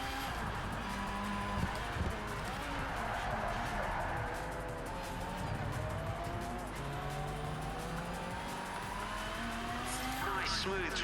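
Race car in Project Cars 3 taking a series of corners in an online race, engine note rising and falling steadily with faint tire squeal, continuous and fairly close, with a voice talking over it.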